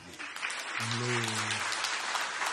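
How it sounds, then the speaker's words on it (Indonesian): Applause from a church congregation during a sermon, a steady mid-level clatter of clapping lasting a couple of seconds, with a voice briefly sounding over it. "ayo kita beri tepuk tangan"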